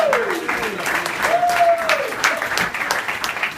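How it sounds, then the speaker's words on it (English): Crowd applause for Elise at a roast, lively clapping with some voices and a whistle rising over it, loud and close, holding steady through the moment. "Let's have an applause for Elise"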